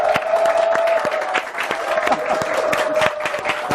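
A crowd applauds as Mayor Lee Jae-myung is welcomed onto a live-streamed broadcast, with steady, loud clapping and individual sharp claps over a faint sustained tone and some background crowd murmur.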